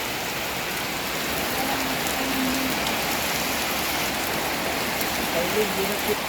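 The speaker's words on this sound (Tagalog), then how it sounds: "Lakas ng ulan oh." Heavy rain pours steadily and loudly on surfaces, a dense continuous hiss throughout with faint voices briefly audible beneath it.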